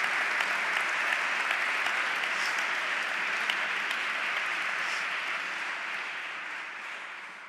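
Audience applause at a talk on peace and nonviolence, a dense steady wash of many hands clapping for several seconds, fading slightly toward the end, with no speech over it.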